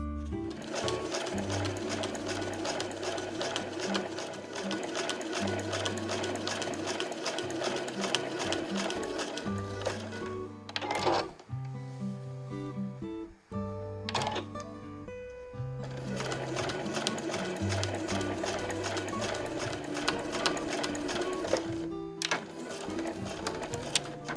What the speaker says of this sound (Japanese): 周囲を待ち針で留めたら、まず底を縫い、そのまま上に上がります。